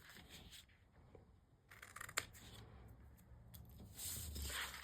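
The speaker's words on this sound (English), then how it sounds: "Cut a V shape from there and cut the other part of a tab." Scissors snip and rasp through paper, cutting a V shape and a tab for a potion bottle label, with quiet, close crisp strokes in short bursts.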